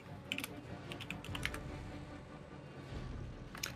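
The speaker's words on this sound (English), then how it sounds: "Sorry if you guys can hear me type. I'm typing furiously." Quick, uneven bursts of keystrokes clatter on a computer keyboard, fast clusters of sharp taps with brief pauses between, fairly close against a quiet background.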